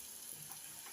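Paneer balls frying in oil over a raised flame to brown them, a faint, even sizzle with soft crackle throughout.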